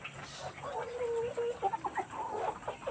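Three-month-old Mardi chickens, male, cluck nearby in short, repeated calls over a quiet background, a few overlapping at once.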